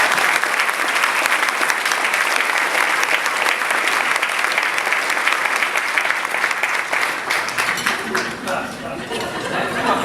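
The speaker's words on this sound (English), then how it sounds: "please give them a big round of applause" A chamber of commerce luncheon audience in Hendersonville applauds, a loud, dense, sustained round of clapping filling a banquet room that thins slightly toward the end.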